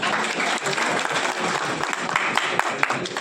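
An audience at a political party gathering in Nashik bursts into dense, sustained applause, loud and close, with a faint voice underneath.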